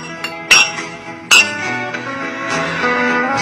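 A glass of liquor is clinked twice in sharp, bright strikes that ring out clearly, followed by a soft sustained tone underneath, close and loud with no talking.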